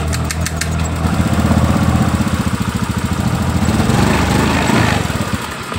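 A Honda Beat motorcycle with an engine fault catching after a brief churn, then settling into a steady, close, loud idle with a fast, slightly uneven putter.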